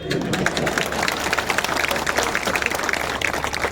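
Audience applause at a political speech: dense, steady clapping from a crowd, sustained at fairly even loudness throughout without a break.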